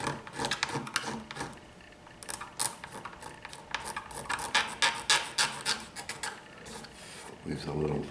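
Scraping on wood while a lap steel guitar is being built: rapid, uneven raspy strokes repeat closely for several seconds, with a voice speaking intermittently.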